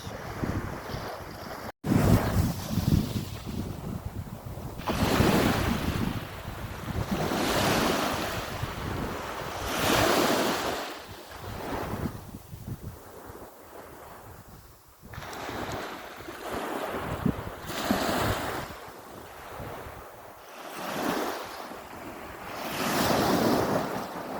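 Waves surge and break in steady rolling swells on the coast of Brittany, northwest France, while a strong sea breeze buffets the microphone, with no one speaking.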